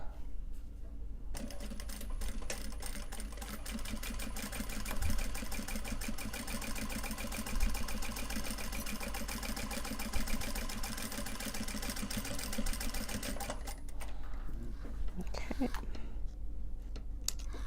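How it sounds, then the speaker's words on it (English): A sewing machine stitches down the sides of a Japanese fabric cell phone purse, running in a fast, steady mechanical rattle for about twelve seconds before stopping. A low hum and faint handling noises follow. "now we stitch down the sides that we just clipped"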